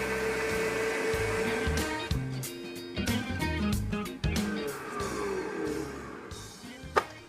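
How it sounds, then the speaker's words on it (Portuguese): An electric stand mixer whirs as it beats an erythritol mixture, a steady motor hum broken by clicks and knocks from the bowl, with brief speech-like bits mixed in. "Então é só colocar aqui na batedeira, é super prático, né?"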